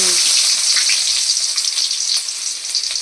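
Fennel seeds frying in hot oil as the base for a chicken gravy, a loud, steady close-up sizzle with crackling pops throughout and no talk.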